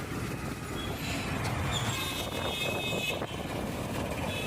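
A train rumbles steadily beneath a road overbridge near a metro station in Bangalore, a continuous broad roar with a faint high whine that holds for the whole stretch, with no voices.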